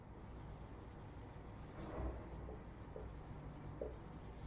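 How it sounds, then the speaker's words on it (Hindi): Marker scratching steadily across a classroom board as a topic title is written, a continuous close rubbing stroke with slight swells, no voices. "इसको टॉपिक का नाम लिखते हैं"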